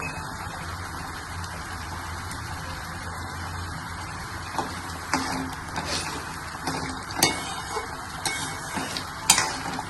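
A potato curry with fried potato chips and kitchen king masala simmers in a home kitchen pot, giving a low steady bubbling hiss, with occasional spoon clinks and stirring taps against the pot growing more frequent toward the end.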